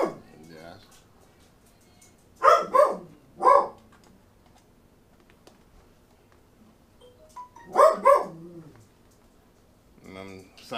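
A dog barks inside a home garage in a few short bursts, two quick barks early and another pair later, fairly close and loud over a quiet background.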